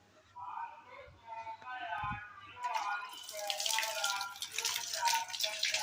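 Hot water runs from a tap, a soft splashing rush that starts after a quiet voice speaks briefly and then keeps going as a steady, close stream.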